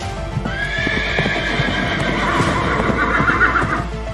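Hooves pound in a fast, steady rhythm close by while a horse carrying an extra load lets out a drawn-out whinny over the running.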